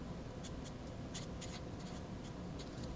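Pen or marker scratching out a math equation about the angle between two planes, a steady run of short faint strokes over a low background hum, with no talking.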